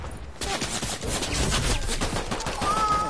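Rapid automatic gunfire in Fortnite aimed at a turret, a dense continuous burst of shots lasting a few seconds and fairly loud.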